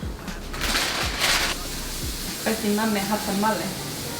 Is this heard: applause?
no